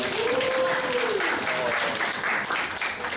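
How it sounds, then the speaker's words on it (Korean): Loud, sustained applause from a crowd at a church youth service, with a voice briefly calling out over the clapping near the start. "박수하겠습니다"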